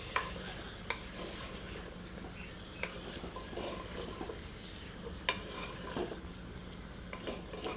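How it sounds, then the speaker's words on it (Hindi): A ladle scrapes and clinks through chicken curry in a small clay handi, with intermittent knocks against the pot and a soft sizzle running underneath, close up and without talk. "एक बार अच्छी तरह से स्टर करके सबको मिला देते हैं।"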